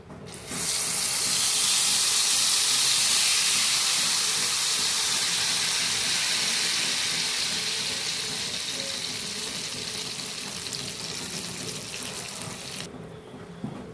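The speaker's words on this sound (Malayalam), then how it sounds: "ഈ ചൂടായ നെയ്യിലേക്ക് നമ്മൾ അരച്ച് വെച്ചിരിക്കുന്ന അരച്ചെടുത്തുകൊണ്ട് വന്നിരിക്കുന്ന ആ ഏത്തപ്പഴം അങ്ങ് ഒഴിച്ചു കൊടുക്കാം" Ground ripe banana paste hits hot ghee in a pan for banana halwa, bursting into a loud, broad sizzling hiss that slowly fades and settles over many seconds.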